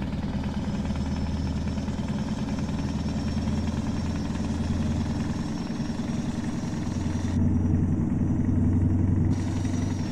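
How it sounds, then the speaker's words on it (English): A vehicle engine hums steadily with a low idling drone, moderately loud and continuous, with a slight rise in tone near the end and no talking. "This engine sounds nicer than the one we had yesterday morning."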